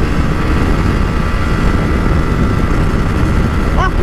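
A Honda Fan 160 motorcycle with thin tires running at speed, its engine giving a steady, loud drone with wind rush, heard from the rider's position with a faint voice near the end.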